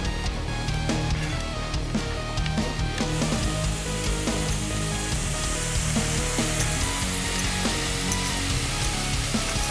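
Continuous loud sizzling from a pot of vegan pot pie filling being stirred, a dense crackling hiss with scraping underneath that holds steady throughout.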